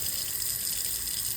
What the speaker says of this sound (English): It's my sink, it's yarn, it's water, it's soap, and I hate listening to this sound.